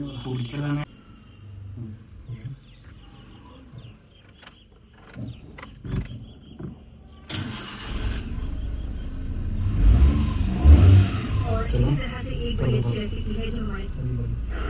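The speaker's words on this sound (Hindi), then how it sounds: "अब आप देख सकते हैं कि जो हमारी गाड़ी थी वो हमारी गाड़ी स्टार्ट हो गई है।" An auto rickshaw engine starts after new key programming, with clicks and handling noises giving way to a rough, rumbling idle. Someone talks over it.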